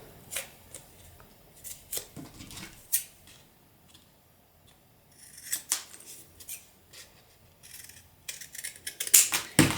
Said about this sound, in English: I'm just cutting 2 strips of card